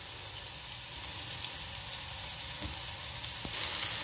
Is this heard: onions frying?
yes